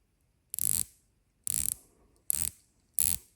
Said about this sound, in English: Excellent bezel action